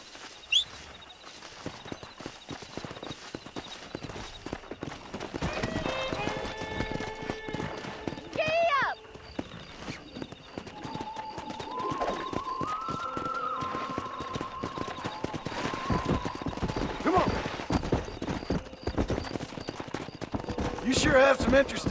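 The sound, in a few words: horses running, hooves clip-clop, video game Red Dead Redemption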